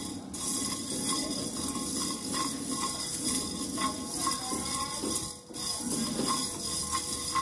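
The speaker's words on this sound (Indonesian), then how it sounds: "Kita aduk-aduk saja." Yellow Indonesian spice paste is stirred in a pan, with a spoon scraping in repeated strokes over a faint, steady sizzle; no one speaks.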